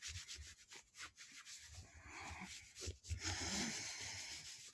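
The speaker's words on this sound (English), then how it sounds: "Make sure you rub your legs." Hands rub along the legs during a self-massage in a quiet meditation and sound-bath setting, giving a steady, soft close-up friction of skin and cloth in long continuous strokes with brief pauses.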